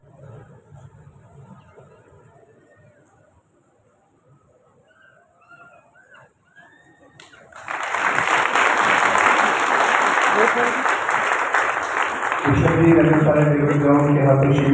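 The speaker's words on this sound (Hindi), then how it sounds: "भरपूर तालियां बजाइएगा, जोरदार तालियां बजाकर आप का इजहार कीजिएगा।" Audience at the opening ceremony of a Bible marathon event breaks into loud, sustained applause after a quiet stretch with faint talk, the clapping continuing to the end under a voice on a speaker system.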